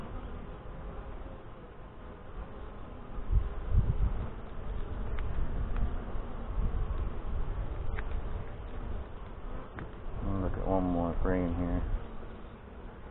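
Honey bees hum and buzz steadily around an open Saskatraz daughter hive in northwest Wisconsin, a close, continuous drone with frames being handled and a person talking over it.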